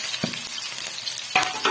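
Chopped onions drop into hot oil in a pan for a black chana curry and sizzle loudly while being stirred, a steady frying hiss broken by a few clinks and scrapes of the spoon.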